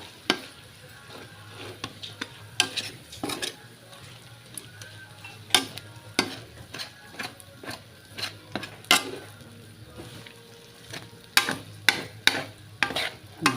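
Dried fish (tuyo) frying in a pan for pansit, with repeated sharp scraping and stirring clatters over a low steady sizzle.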